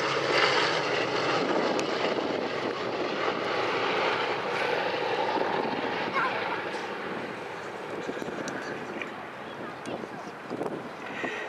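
Piston engines of the B-17 Flying Fortress 'Sally B' drone in a broad, steady roar at an air show, loud and continuous with some wind buffeting, a voice speaking over it.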